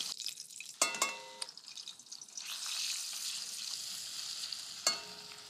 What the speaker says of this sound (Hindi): अब प्याज को धीमी आंच पे ब्राउन करना है, ज्यादा तेज आंच पे नहीं, क्योंकि एक तो घी है